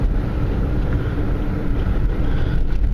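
Vehicle rolling along at 22 miles an hour, a steady loud low rumble of road and wind noise filling the cabin without any voices.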